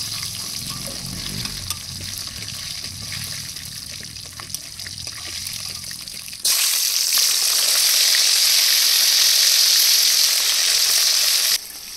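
Snakehead fish frying in hot oil until crisp and red in a village kitchen, a steady crackling sizzle that swells sharply louder midway and holds before easing back, with no talk.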